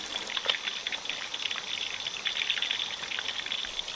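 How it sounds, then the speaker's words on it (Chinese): Fish frying undisturbed in hot oil in a pan, a steady close crackle and sizzle with fine popping spatters throughout, no voices. "等它慢慢的炸上2、3分钟，再去轻轻的推动它，免得它粘锅"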